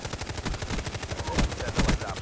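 Rapid gunfire in a Black Ops 3 multiplayer uplink match, with dense repeated shots rattling through the whole moment alongside game noise and no speech over it.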